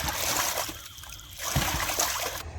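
Water gushes and splashes from a pipe outlet in a forest at night, a short, close, uneven rush of flowing water.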